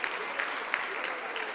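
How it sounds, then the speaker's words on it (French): An audience at a sustainable development forum gives steady applause, a dense patter of many hands clapping at moderate distance without a break. "on donne une bonne main d'applaudissements"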